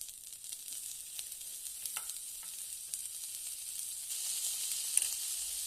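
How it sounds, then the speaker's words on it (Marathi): Fried coconut with betel leaf paste sizzles steadily in a pan while being stirred, giving a constant, close hiss with light scraping. "छान असं हलवून घ्यायचं आहे"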